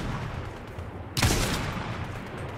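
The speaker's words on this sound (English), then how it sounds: "He's shooting at our Spider-Man" Gunfire in the video game Fortnite, a single sharp, loud shot cracking out midway over a low background of distant fire and game noise, no talking.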